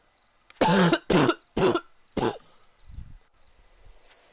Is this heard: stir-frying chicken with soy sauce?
no